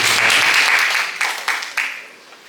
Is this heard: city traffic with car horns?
no